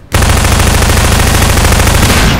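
Continuous, very loud automatic gunfire in Half-Life 2, a rapid unbroken burst that starts abruptly and rattles on for over two seconds without pause.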